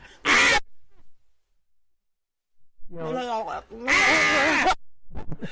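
A voice imitates a screaming goat, letting out two loud, strained bleating shrieks separated by a pause, with a bit of talking in between.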